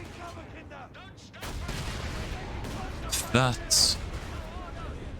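Mortar fire in Company of Heroes 3 comes as a few muffled thumps and cracks amid battle noise, with a voice talking over it and game voice lines.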